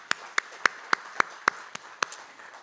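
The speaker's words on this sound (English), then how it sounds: "Can we just give them another little clap?" A small clap at a charity foundation event: sharp, evenly spaced hand claps, about nine in quick succession, close and distinct, like a single pair of hands rather than a full crowd.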